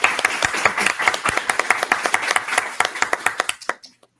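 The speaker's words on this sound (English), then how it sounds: "we're clapping our hands" Close, distinct hand clapping from a small audience at an online talk on lexical collocations, in quick uneven claps that stop abruptly near the end.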